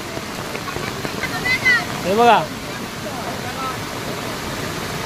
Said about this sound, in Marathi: पूर्ण रोडवरून पाणी जातं आहे.